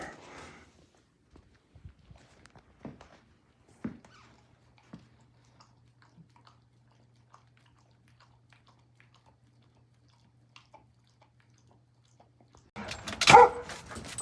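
A dog with a chew treat makes sparse, faint mouth and movement sounds in a quiet room, followed by a louder, close burst of activity at the end.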